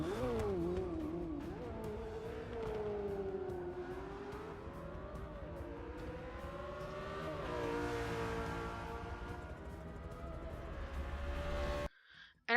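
A race car engine in Forza Motorsport 6 revving through the gears, rising and falling pitch sweeps with shifts, a steady strong drone ending in an abrupt cut.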